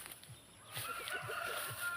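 Hens with their chicks on a farm make soft, faint clucks and peeps in a loose repeating rhythm, with high chick chirps over low hen calls.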